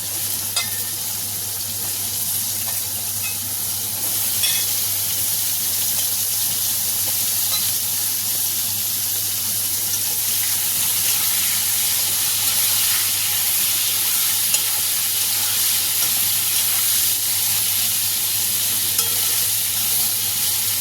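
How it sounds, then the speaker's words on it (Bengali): Cut potato, green papaya and drumstick pieces fry in hot oil, a dense, even sizzle and hiss lasting about twenty seconds with faint occasional stirring ticks, close and without talk. "আমি এই তেলের মধ্যে কিন্তু কেটে রাখা আলু, পেঁপে আর সজনে ডাঁটাটা দিয়ে দেবো।"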